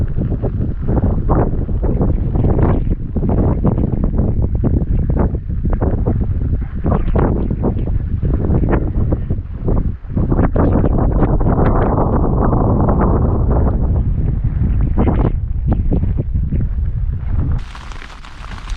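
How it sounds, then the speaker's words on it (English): Strong wind buffets a Hilleberg Soulo Black Label tent at a wild camp in wind and rain, a loud continuous roaring rush of gusts close to the microphone that drops sharply near the end. "The wind's dropped a little bit now. It was savage while I was putting it up"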